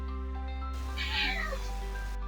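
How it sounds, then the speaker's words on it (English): A pet cat named Casper gives a single drawn-out meow, close and clear over a steady low electrical hum, with no talking. "That is my cat Casper, if you heard him."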